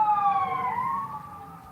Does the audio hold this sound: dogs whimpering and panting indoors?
no